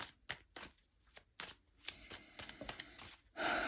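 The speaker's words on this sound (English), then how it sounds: "let's shuffle to see what cards have to say" Tarot cards are riffled and shuffled in quick, crisp bursts up close, ending with a louder continuous flutter of cards.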